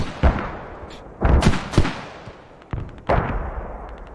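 Mortar fire in a military video game, with several loud, booming impacts and thuds arriving in irregular bursts, each trailing a rumbling decay.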